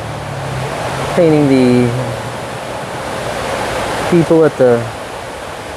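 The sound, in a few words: flowing water at the Fort Worth Water Gardens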